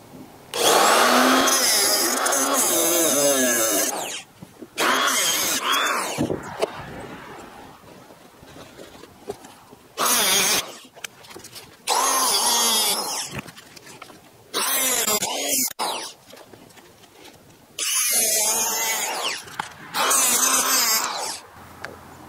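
A power tool cuts apart a used Purolator oil filter in short, harsh, loud bursts separated by pauses, with some noisy handling between the cuts.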